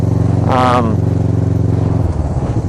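A motorcycle engine drones steadily and loud, with a brief rising rev and quick gear changes made without the clutch, the pitch dropping near the end as it settles.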